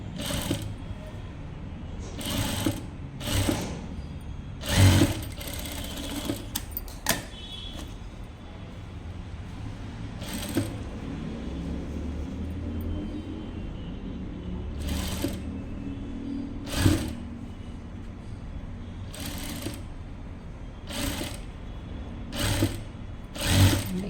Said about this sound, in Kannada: ಎರಡೆರಡು ಸ್ಟಿಚ್ ಹಾಕೊಂಬಿಡಿ ನೀಟಾಗಿರುತ್ತೆ ಸ್ಟಿಚ್ಚಿಂಗು ಚೆನ್ನಾಗಿ ಬರಬೇಕು